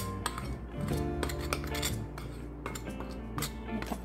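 A utensil clinks and scrapes in a bowl as cornstarch, salt and baking powder are mixed for binangkal, a run of light irregular metallic taps and rattles, close and fairly quiet.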